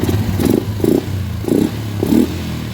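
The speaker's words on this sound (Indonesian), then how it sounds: "Coba starter lagi." A Yamaha Jupiter MX motorcycle with a dirty carburetor is started on the electric starter, giving a loud, close mechanical clatter with rhythmic starter-like pulses over a constant engine hum.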